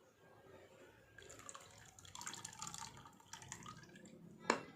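Rinse water drains out of a container holding glass chipset sediment, with uneven splashing bursts of running water over a low background, ending in a sharp clink.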